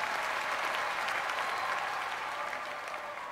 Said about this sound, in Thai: ขอเสียงปรบมือกับน้องน้ำทิพย์ด้วยครับ